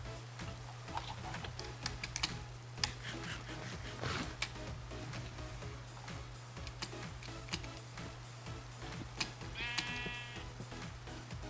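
Near the end, a sheep in Minecraft lets out a single short bleat. Before it, a steady run of computer keyboard clicks and taps plays over a constant low game hum.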